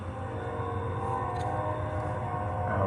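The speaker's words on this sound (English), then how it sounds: "that was a train, not a truck" A passing train makes a steady, low rumbling roar at moderate distance, sustained throughout with a faint tonal whine near the middle and no voices.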